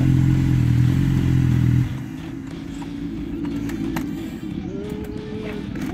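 A Honda VFR 800 VTEC motorcycle's exhaust, loud and close, with a deep steady rumble that drops to a lower idle after about two seconds and holds there to the end.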